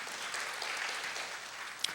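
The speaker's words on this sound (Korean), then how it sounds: "박수 보내주십시오" Congregation at a Sunday young-adults church service applauding, a dense, steady wash of many hands clapping throughout, with one sharper clap near the end.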